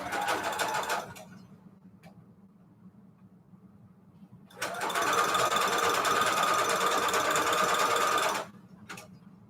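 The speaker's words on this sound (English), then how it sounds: "So I'm just going to keep sewing." A sewing machine stitches lace and fabric trim in two runs, a short burst and then a longer steady whirring run of about four seconds, close and clear with quiet pauses between.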